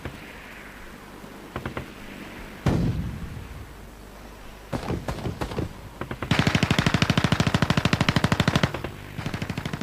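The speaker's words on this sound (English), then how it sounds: "After an exchange of fire" A battle exchange of gunfire around the Beersheba police fort: loud machine-gun bursts and single rifle shots crack in irregular volleys, ending in a long sustained rattling burst.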